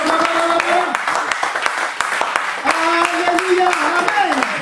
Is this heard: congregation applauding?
yes